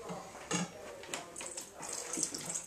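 Water poured into a bowl of cornstarch in a home kitchen makes a soft, irregular splashing and trickling that stays close and fairly quiet, with no talking.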